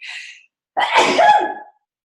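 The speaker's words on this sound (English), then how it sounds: "And I'm going to sneeze." A sharp intake of breath followed by a single loud, close sneeze, then silence.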